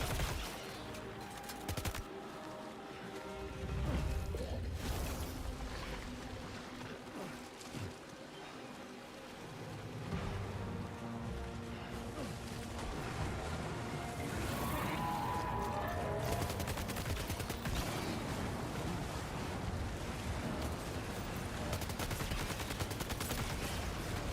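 Gunfire in the video game Death Stranding 2, dense bursts of shots and rapid automatic fire rolling on and off over about twenty seconds amid a noisy, rain-like game background.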